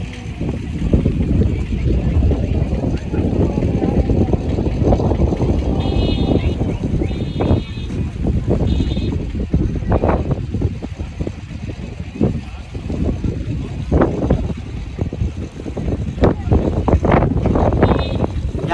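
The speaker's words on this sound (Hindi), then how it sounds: "यहाँ बहुत ज़्यादा हवा चल रहा है और इतना हवा कि इंसान भी उड़ जाए।" Strong wind roars against the microphone at the southern tip of India near Rameshwaram, a loud continuous buffeting rush with gusty swells, while someone talks through it.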